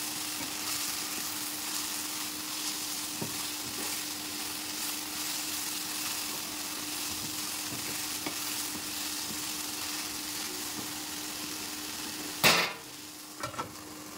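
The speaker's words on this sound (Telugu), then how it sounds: "ఇది వేగేటప్పుడు దీనిలో జీలకర్ర, చిన్నులపాయలు కూడా వేసి కలుపుకుంటాను." Drumstick flowers frying with cumin seeds and small onions give off a soft, continuous sizzle with occasional light stirring taps, and a sharper knock comes near the end.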